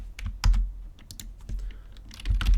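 Close, crisp keystrokes in an uneven rhythm as a calculation is typed on a computer keyboard, with no talking.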